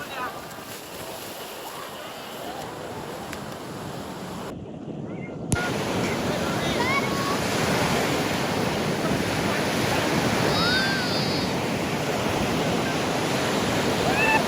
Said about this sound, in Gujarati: બહુ મોટા મોટા મોજા આવી રહ્યા છે